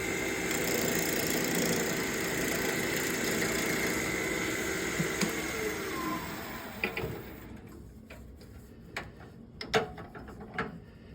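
A wood lathe turns a wooden ball during light finishing passes, giving a steady whirring hum that winds down partway through, followed by scattered faint clicks and knocks.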